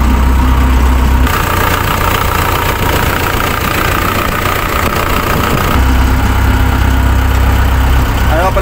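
An excavator engine runs steadily after a starter relay repair, a loud, close, continuous idling rumble with an even knock throughout.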